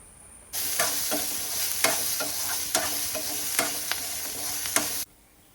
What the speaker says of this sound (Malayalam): കുറച്ച് കരിയേപ്പിൻ്റെ ഇല ഇട്ട് കൊടുത്തുകൊണ്ട് നന്നായിട്ട് ഒന്ന് മൂപ്പിച്ചെടുക്കട്ടെ